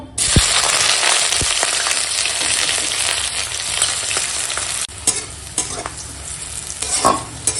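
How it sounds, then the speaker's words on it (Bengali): Chopped onion and slit green chili fry in a pan with a loud, continuous sizzle, while a utensil stirs and scrapes in repeated strokes throughout. "চলো এখন পেঁয়াজ লঙ্কাটা ভেজে নেবো"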